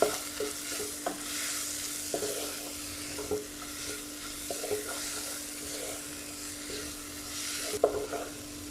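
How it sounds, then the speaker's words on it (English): A pav bhaji mixture is stirred and fried in a pan, with a soft continuous sizzle under repeated scraping strokes of a spoon at a slow, uneven rhythm, close and fairly quiet. "So we will just mix everything and fry it for another 2 to 3 minutes"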